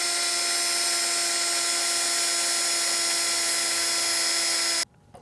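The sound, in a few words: drill drilling through two pieces of metal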